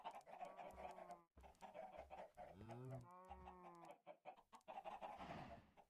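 Chickens clucking and squawking in the factory-building video game Antimatter Factory, a run of close, loud, overlapping clucks and calls with short pauses between bursts.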